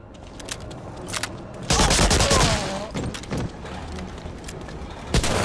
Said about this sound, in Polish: O Boże, ale to strzela.